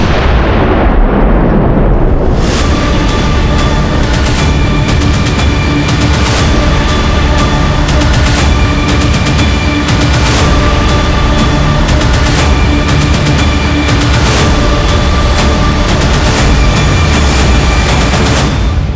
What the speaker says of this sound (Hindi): ये तो छोटा सा धमाका था।